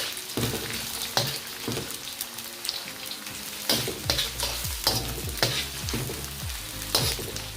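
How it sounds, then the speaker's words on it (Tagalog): Onion sautéing in a wok for pancit bihon guisado, with a constant crackling sizzle and regular scraping, tossing strokes of the utensil against the metal, close and fairly loud with no voices. "Just pour in the onion and mix it."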